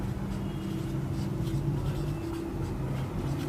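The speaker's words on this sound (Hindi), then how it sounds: "तो हम यहाँ पे लिखते हैं टाइम" Writing on a board during a physics class, a steady faint scratching under a constant hum, continuous for a few seconds.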